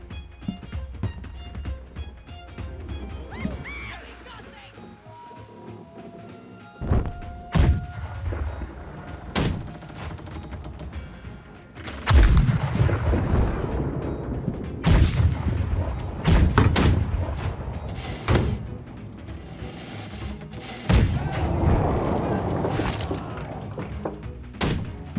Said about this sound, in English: that thing's not a cannon, that's a swivel gun